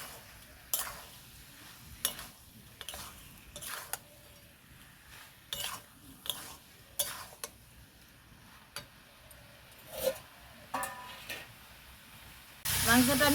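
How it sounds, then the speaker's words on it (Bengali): Meat being sautéed and stirred in a pan for a Bengali meat ghugni, with repeated sharp scraping ticks of a spatula at irregular intervals over a soft sizzle, ending in a louder burst of noise. "মাংসটা আমি ভালো করে কষিয়ে নিয়েছি।"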